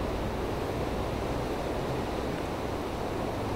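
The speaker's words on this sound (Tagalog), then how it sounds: "hagos ng tubig" Water rushes steadily near a bridge in Rome as a constant, close roar of broadband noise, with no breaks or voices.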